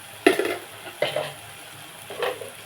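A spoon stirring onions with ginger garlic paste in a pan for egg curry, three separate scraping strokes with soft sizzling between them, close and fairly quiet.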